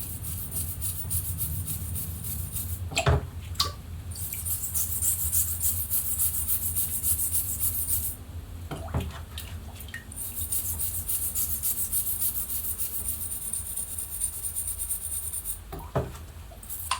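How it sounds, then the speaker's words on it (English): A brass brush scrubs paint softened by stripper off an aluminum shock absorber, with continuous close rasping strokes that pause briefly a few times and carry a couple of sharper knocks. "I will use a simple brush to remove the paint mechanically"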